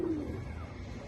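A female pigeon at a pigeon farm gives a brief low coo at the start, followed by quiet, steady background noise.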